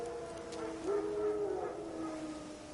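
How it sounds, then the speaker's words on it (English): Wild dogs in The Witcher 3 let out a single drawn-out howl, rising then holding steady for under a second over a low, continuous outdoor ambience, moderately distant rather than close. "Wild dogs. Yes. More dangerous than wolves."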